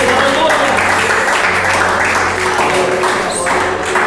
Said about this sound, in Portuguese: Mais palmas para louvar Jesus.